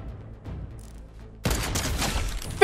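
Gunfire in the video game Fortnite: after a quiet stretch, a sudden loud burst of shots erupts and rattles on continuously to the end.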